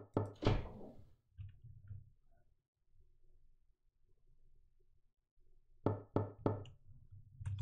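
Knocking on an apartment's front door in a horror game: one loud knock, then faint thuds, a long quiet stretch, and finally a burst of three or four sharp, close raps.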